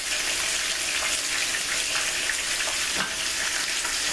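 Pork chops frying in a pan of hot oil, a dense, even sizzle that holds at a constant level with no voices and only a faint crackle now and then.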